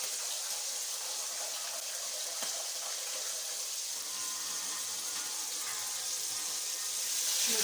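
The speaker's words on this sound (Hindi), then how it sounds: "इसमें हम तकरीबन हाफ कप पानी का डालेंगे" Half a cup of water is poured into a pot of vegetable pulao, making a soft, steady hissing pour and sizzle that runs continuously at a low level.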